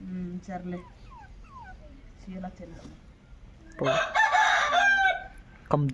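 Someone talks briefly, then a rooster lets out a loud, close crow, followed by a short squawk, in a village setting.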